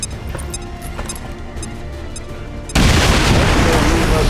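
Grenade blast in XCOM 2: War of the Chosen: a sudden, loud, broad explosion whose roar and crackle sustain after the blast, following a stretch of quieter battle ambience.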